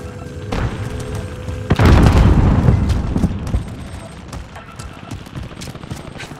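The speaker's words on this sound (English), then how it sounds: "Frag on the way." A frag grenade blast in the Warzone game on Rebirth Island lands as a loud, deep boom with a rumbling tail, surrounded by quieter in-game clatter and effects.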